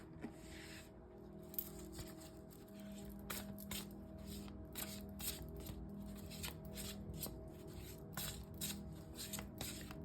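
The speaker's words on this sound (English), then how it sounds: "We're going to draw a couple of cards for this reading" Cards being shuffled for a card reading, a quiet, close run of soft rapid riffles and flicks repeating steadily over a faint background hum.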